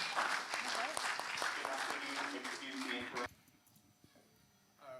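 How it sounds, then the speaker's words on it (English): Audience applause after a poetry performance, dense clapping for about three seconds that cuts off abruptly into quiet room tone, with a brief murmur near the end. "You can clap for it."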